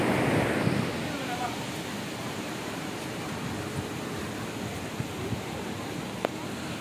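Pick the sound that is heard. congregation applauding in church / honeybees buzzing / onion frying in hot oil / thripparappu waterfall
thripparappu waterfall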